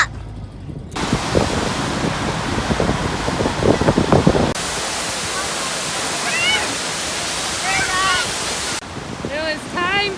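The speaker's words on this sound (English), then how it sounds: "There's a river down there, and if you can't see it is from the snow melting from the mountains" A mountain river fed by snowmelt in Kings Canyon National Park rushes with a loud, steady roar, and bird chirps ring out over the water in the later part.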